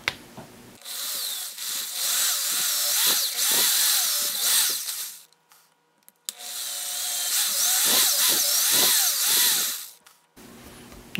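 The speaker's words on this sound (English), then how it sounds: "We're going to drill most of the way through now, but not all the way." A power drill whines loudly through the wood of a guitar in two long bursts, with a short pause between them and a brief gap before the end.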